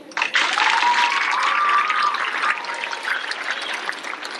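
Families in a school-program audience clap for award winners named on stage, a full burst of applause that swells quickly, holds, then gradually thins out.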